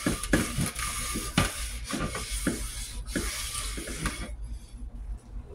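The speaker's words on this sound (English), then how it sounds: "Pour a little oil in that lid for the pot" Oil trickles into a cast iron pot lid during cleaning of old cast iron, a faint, wet, uneven pouring with soft clinks and rubbing, stopping near the end.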